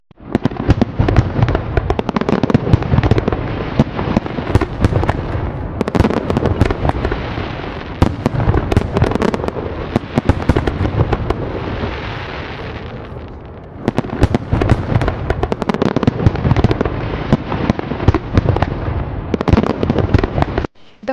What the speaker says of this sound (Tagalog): The fireworks at Global Village are a spectacular way to end your day.